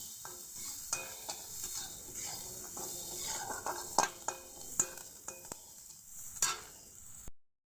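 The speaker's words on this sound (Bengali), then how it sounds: "এবার আমি লাল লাল করে ভেজে নেব।" Sliced onions fry in a pan, giving a soft, steady sizzle broken by a string of light scraping and tapping knocks as a spatula stirs them, fairly quiet and close, ending abruptly.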